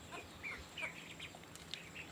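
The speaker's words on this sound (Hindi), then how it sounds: "तो सबसे पहले मैं इस काली वाली मुर्गी को दवाई दूंगा, तो पहले रानी को फीडिंग करा देते हैं।" A black hen clucks softly in a few brief, scattered calls, faint and close in a quiet farmyard, with no talking.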